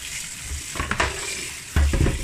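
Food is stirred in a hot cooking pot, close scraping strokes over a steady sizzle, with a heavier clunk of the utensil near the end.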